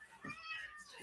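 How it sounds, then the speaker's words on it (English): A rescued house cat meows indoors, a couple of short close mewing calls with soft household noise and possible background voice. "That is our cat that we actually rescued."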